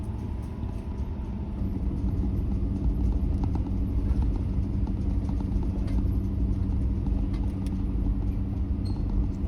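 A heavy log truck rolls down a steep mountain road, its diesel engine a steady deep rumble under continuous cab noise and rattling, loud and close throughout.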